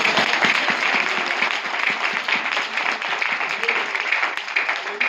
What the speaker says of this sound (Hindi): एक बार जोरदार ताली प्रभु यीशु को।